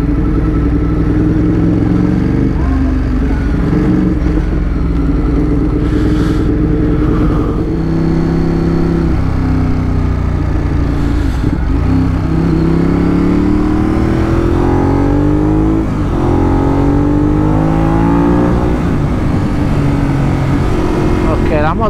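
Motorcycle engine running and revving under way on a sunny-day ride, with pitch rising and falling steadily across the clip, loud and close throughout.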